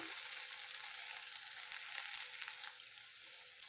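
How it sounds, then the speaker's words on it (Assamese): Quiet, even sizzling of sliced onions browning in a pan for a bitter gourd and jaggery dish, with faint crackles and soft stirring taps throughout. "মই 3-4 মিনিটমানৰ কাৰণে ইয়াক ভালদৰে এনেদৰে ভাজি ল'ম।"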